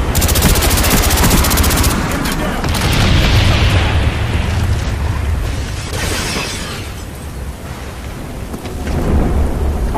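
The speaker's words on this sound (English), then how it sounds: "Bomb strike on the way." Bomb strike explosions and gunfire in a team deathmatch video game on the Kowloon map: a loud, continuous wall of rumbling booms and rattling fire, swelling and easing over the whole stretch.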